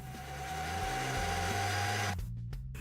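A loud, steady motor whir of an electric mixer grinder blending bread ice cream mixture runs throughout, its pitch shifting in steps before cutting to a lower drone near the end.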